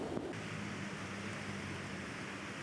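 The San Juan River in flood rushes past near a highway bridge as a steady broadband roar, moderately quiet and unbroken, with no voices.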